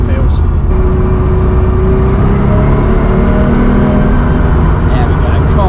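An older car drives along a road, its engine humming loud and steady with rising revs as it accelerates, the note climbing in pitch, while someone talks over it.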